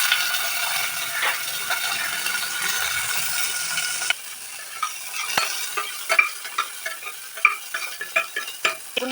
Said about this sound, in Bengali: বেগুনগুলোকে একটু ভেজে নেব, আমি হালকা ফ্রাই করে নেব।